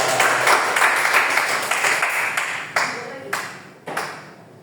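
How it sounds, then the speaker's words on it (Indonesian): A class of students claps hands during a microteaching lesson, a lively burst of mixed applause that thins out into a few separate sharp claps near the end. "tepuk tangan"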